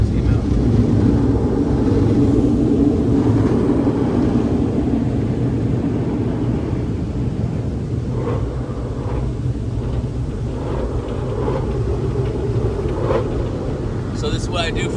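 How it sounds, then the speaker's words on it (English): Steady road and engine drone inside the cabin of a 2026 Honda Passport Trailsport Elite while driving, a constant low rumble with faint wind hiss and a few small clicks. "I feel like this one's a little bit more quieter than the Pilot."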